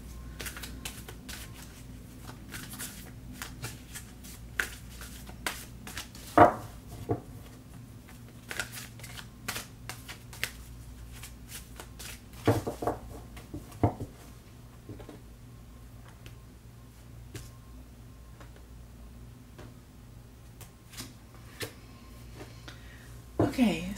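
Tarot cards being shuffled and pulled by hand, a run of soft, close riffles and crisp flicks scattered over a quiet low hum, with a few sharper snaps standing out.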